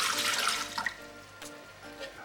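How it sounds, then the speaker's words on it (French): Water pours into a Thermomix TM5 bowl for chestnut cream, a bright splashing stream near and fairly loud at the start, then fading to quieter trickles and drips. "Versez l'eau dans le bol Thermomix."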